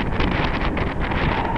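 Brisk easterly wind buffeting a cyclist's microphone outdoors, a loud rumbling gusty roar throughout a short burst.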